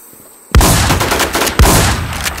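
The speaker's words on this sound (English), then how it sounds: "Who's shooting that?" Gunfire in the video game The War Z: two loud, close booming shots about a second apart, each followed by a rumbling echoing tail.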